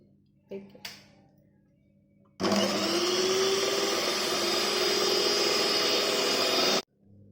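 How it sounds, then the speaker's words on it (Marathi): An electric beater whisks a milk ice cream mixture with added vanilla essence, giving a loud, steady mechanical whir that starts abruptly, runs for about four seconds and cuts off, after a few brief knocks. "आता आपण 1/2 चमचा त्याच्यामध्ये व्हॅनिला इसेन्स टाकून घेऊया आणि पुन्हा एकदा छान फेटून घेऊया"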